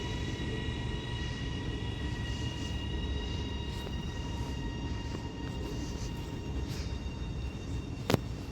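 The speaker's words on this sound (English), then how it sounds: "397001 arrives into Bolton now with the 1343 Transpennine Express service to Oxenholme Lake District from Manchester Airport" Transpennine Express unit 397001 pulls into Bolton station, a steady low rumble and rolling rail noise with faint high whine, a brief sharp squeal near the end.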